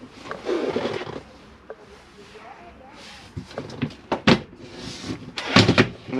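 Cutlery drawer in a Swift Searcher 614 caravan kitchen: a few sharp knocks and slides as it is pulled open and pushed shut, close by, with someone talking at the start.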